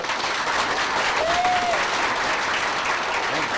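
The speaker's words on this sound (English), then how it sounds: "So I'd like to start off with a round of applause for Travis." Steady applause from a lecture audience for a guest speaker, a dense wash of clapping hands that holds evenly throughout.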